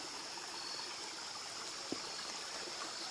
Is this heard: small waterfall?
yes